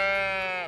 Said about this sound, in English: A sheep makes a